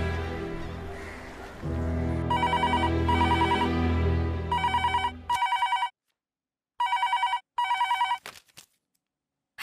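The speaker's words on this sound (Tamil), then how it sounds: "யாரோ ஃபோன் பண்றாங்க, எடுத்தா பேசவும் மாட்டேங்கிறாங்க." A telephone rings in a series of bright electronic trilling bursts, first over a musical background and then alone, with silent gaps between the rings.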